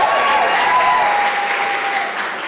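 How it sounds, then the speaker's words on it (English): Audience applause for doctoral graduates at a University of South Africa graduation ceremony: steady, dense clapping from a large crowd, loud and sustained throughout, with a faint held tone running beneath. "Let's give him a round of applause"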